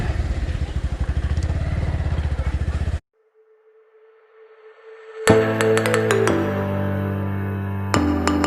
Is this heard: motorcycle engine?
yes